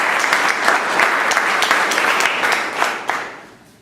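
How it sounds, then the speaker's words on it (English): Audience applause for a speaker after a speech, a dense, steady clatter of many hands that holds for several seconds, then thins and fades toward the end. "Let us give him a very big applause."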